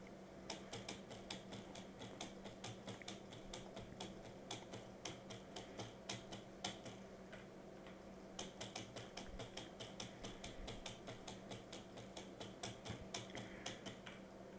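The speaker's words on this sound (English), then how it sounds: "And yes, I know my keyboard's pretty loud." Rapid, loud clacking of a computer keyboard, keys struck in quick irregular bursts with brief pauses, close and steady throughout.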